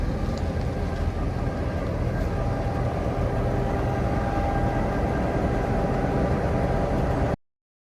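Lehigh Gorge Scenic Railway train running out of Jim Thorpe, Pennsylvania, recorded close by as a loud, steady rumble and roll of wheels that holds unbroken and stops abruptly, with no voices.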